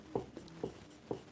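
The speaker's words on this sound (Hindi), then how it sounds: "देखिए लिखेंगे माना" Hand writing on paper while solving a coordinate geometry problem: four quick scratchy pen or chalk strokes in a light rhythm, close and fairly quiet with no talking.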